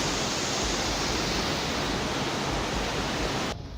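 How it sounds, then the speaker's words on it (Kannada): Delta Falls in the Western Ghats of Karnataka, swollen after heavy rain, roars as a steady, dense rush of falling water, continuous and fairly distant, with no voices. "ಡೆಲ್ಟಾ ಫಾಲ್ಸ್ ಕೂಡ ಧುಮ್ಮಿಕ್ಕುತ್ತಿದೆ"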